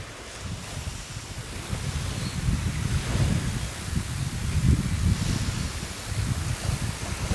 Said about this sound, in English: just listening to the sounds of the waves